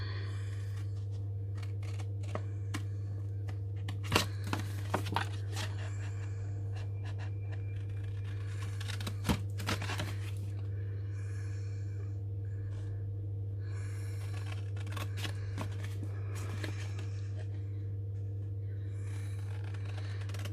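Cardboard pieces for a box being cut, giving faint, scattered snips and scrapes over a steady low background hum, with a few slightly louder cuts now and then.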